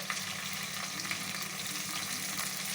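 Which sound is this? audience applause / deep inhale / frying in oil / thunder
frying in oil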